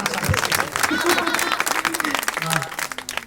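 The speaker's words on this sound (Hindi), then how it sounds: "जोरदार तालियां।" Audience applause at a Hindi comic poetry show, a broad wash of clapping that runs the whole moment with scattered voices and cheers mixed in.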